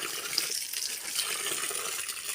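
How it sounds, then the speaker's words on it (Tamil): Water splashing and draining while medicinal herbs are rinsed in a container, a continuous close wash of running, trickling liquid with no voices. "இது வந்து நல்ல இந்த மாதிரி அலசி இந்த தண்ணி பூரா போயிடணும்"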